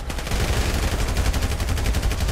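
Continuous rapid gunfire in the video game GTA 5, dense and loud, like sustained automatic shooting with no pauses or voices over it.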